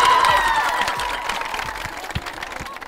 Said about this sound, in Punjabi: ਜ਼ੋਰ ਜ਼ੋਰ ਤਾੜੀਆਂ ਜੀ ਨਾਲ ਕੀਰਤੀ